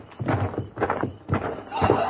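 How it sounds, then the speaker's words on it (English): Horses outside in a radio drama western: irregular hoof thumps and a whinny-like cry, fairly close and moderately loud, repeating in three or four bursts. "The horses, there's somebody out there."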